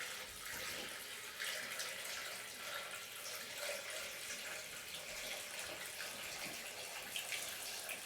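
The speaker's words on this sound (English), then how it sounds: "We gotta make sure the water I'm putting in this fish tank isn't so cold." Water pours steadily into a home fish tank, a continuous close splashing rush with no talking over it.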